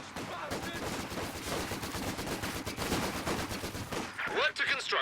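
Rapid long-range gunfire in Company of Heroes 2 battle, dense machine-gun bursts and rifle cracks crackling continuously at moderate level, with a voice talking over the shooting.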